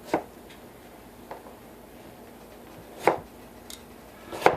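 A knife slices through potatoes on a cutting board for hash, with three sharp chopping strikes spaced a second or more apart over a quiet background.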